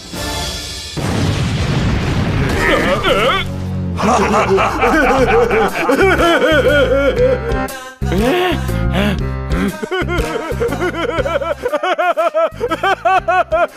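A cartoon character voices a loud, booming bomb-explosion imitation, followed by snickering and chuckling laughter from other animated characters.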